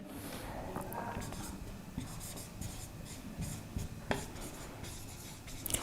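A marker or chalk scratches and rubs steadily on a classroom board during a physics lecture, with continuous close strokes and a few sharper taps, over a dense room background.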